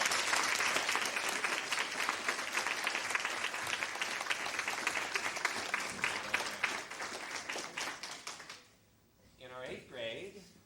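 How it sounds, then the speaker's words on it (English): Audience applause at a 1997 high school day event honoring honor-roll students, a dense sustained clapping from a room full of people that fades out near the end, followed by a voice speaking. "So let's give them a round of applause."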